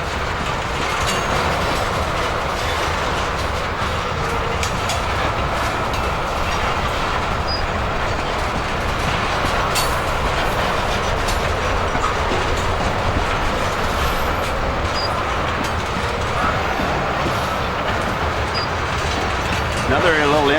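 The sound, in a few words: Canadian Pacific Bakken crude oil freight train passing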